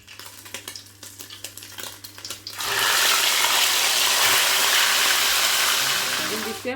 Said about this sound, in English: You can see I already stuck all my fish, so I'm gonna fry them